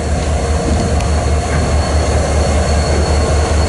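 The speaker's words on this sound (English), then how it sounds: "Here comes tail end Charlie 9387, which should be an ace, an SD70 ace. Pushing." An empty BNSF coal train rolls past close by, its SD70ACe locomotive pushing at the rear. A steady low rumble of wheels runs through the whole stretch, with faint squeals over it.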